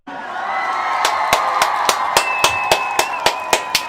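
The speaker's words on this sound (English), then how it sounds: "I want to give all of the Umoja baby, all the Umoja born, a round of applause" An audience in a room applauds and cheers, with a crowd roar building under voices, then a run of sharp, evenly spaced claps that grow more prominent toward the end.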